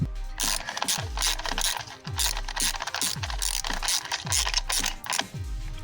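A ratchet wrench tightens the valve cover bolts on a 2011 Kia Forte, a rapid clicking ratchet sound repeating in regular bursts with a metallic pawl rattle, close and loud with no talk.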